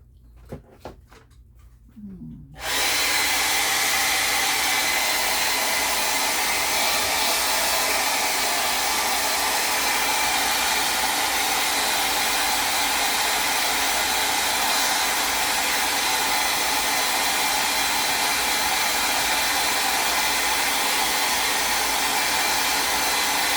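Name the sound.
hair dryer drying paint on a decoupage roses craft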